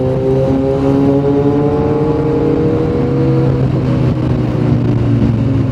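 A motorcycle engine revs and holds steady, its tones rising slowly and then settling, loud and close with no talk over it.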